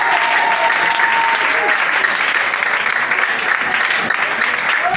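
A church congregation claps steadily in sustained, dense applause, filling the room evenly from start to finish with a faint tone briefly audible over it.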